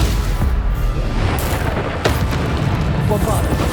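A Bombarda spell blast erupts in Hogwarts Legacy, a heavy booming explosion with dense rumble and sharp bursts, loud and close, while a voice speaks over it.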